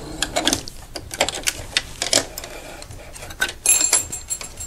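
A sewing machine stitches off the end of a fabric seam, giving quick, close mechanical ticking and clattering bursts at moderate loudness with no voices.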